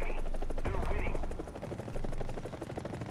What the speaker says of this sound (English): we're going to rocket dump and grenade launch Bravo